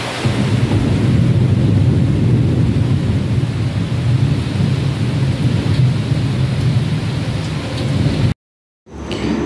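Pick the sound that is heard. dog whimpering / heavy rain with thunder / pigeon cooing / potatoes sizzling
heavy rain with thunder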